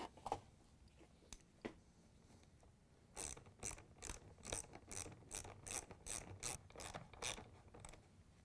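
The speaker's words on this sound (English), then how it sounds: "Next, we can tighten down the clamps." Ratchet wrench tightening the pump hose clamps on a GE dishwasher during a pump seal and impeller repair: a quick run of crisp, evenly spaced clicks, close and moderately loud, after a few scattered taps.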